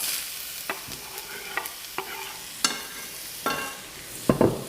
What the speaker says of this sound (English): A little bit of extra virgin olive oil in there, just so that we can get going. And then in with our onions.